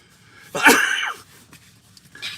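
A single harsh burst like a cough or sneeze, close and loud, followed by quieter breathy sounds.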